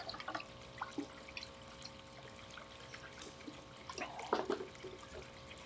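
Parts of a ProLine Hy-Drive pond and waterfall pump are rinsed under running water, with a faint trickle and a few soft splashes and knocks, quiet and with no voices.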